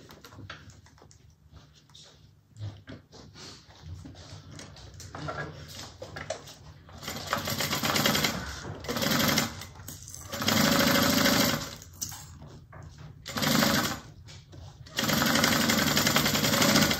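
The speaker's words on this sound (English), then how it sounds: "I'm going to sew the zipper on the 1/4 inch." Sewing machine stitching a zipper onto a fabric bag at a quarter-inch seam, close rapid whirring runs in several bursts that start and stop, separated by quieter pauses with faint handling sounds.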